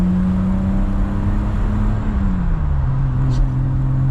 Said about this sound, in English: still got that lovely 6-pot sound without the horrific fuel bill that comes with it, as you'll hear